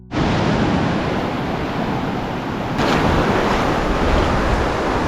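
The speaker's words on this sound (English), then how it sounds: "But great fun walking through the waves." Ocean surf at a New Zealand beach roars as a continuous loud broadband wash, with wind buffeting the microphone and no voices.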